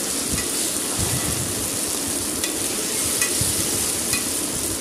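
Ginger garlic paste frying in a pan, giving a dense, even sizzle with soft stirring scrapes throughout, close and continuous, with no talking.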